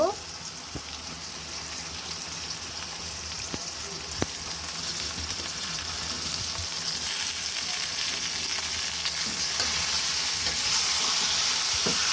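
Chicken pieces fry in a hot pan for a cauliflower chicken curry, giving a steady, dense sizzle with occasional stirring clicks and scrapes that builds slightly louder over time, close and continuous with no voices.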